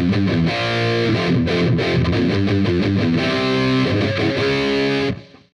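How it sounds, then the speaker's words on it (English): Heavily distorted electric guitar chugs through the chunky, repeating verse riff of a song, loud and continuous, then cuts off at the end. "The verse riff sounds like this."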